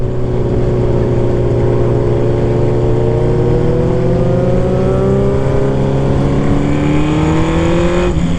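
A fully built Kawasaki Z1000 motorcycle accelerates hard on a test ride, its loud, close engine note rising steadily in pitch through the gear with constant wind roar, with no voices heard.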